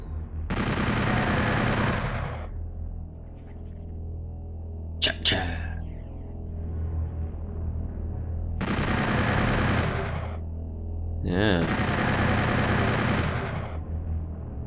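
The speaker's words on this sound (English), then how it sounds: "I have a gun. Not afraid of shooting the gun." A shotgun fires in the Doom 64 video game, with long roaring blasts of game noise and a brief sharp crack between them, loud and close.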